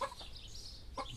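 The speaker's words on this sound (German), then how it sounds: "die Hühner kloppen sich gerade." Chickens squabbling in a garden in mid-May, giving a short burst of agitated clucking and squawks over steady outdoor background noise.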